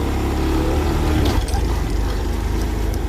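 A Boom Vader Grom clone minibike engine idles with a close, buzzing drone, then its pitch shifts and it roughens as the bike pulls away.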